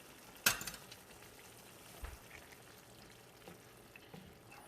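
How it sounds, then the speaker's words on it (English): Pasta being stirred through a sizzling sauce in a pan, a sharp scrape of the spoon near the start, then a soft steady sizzle with a few light clinks and stirring sounds, close and fairly quiet. "We're going to give that another stir."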